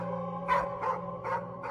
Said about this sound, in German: seinen Hund draußen heftig bellen